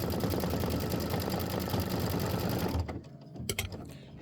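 An embroidery machine stitches a quilt block with a steady, loud mechanical whir, then stops and gives a short series of clicking, snapping thread-cutter sounds.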